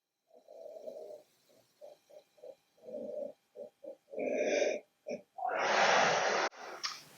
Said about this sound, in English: So get ready to give a sniff.